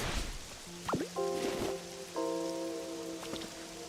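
Soft, steady rainfall hisses in the video game Pokémon Pokopia, a faint wet patter running under bright sustained synth tones and chimes.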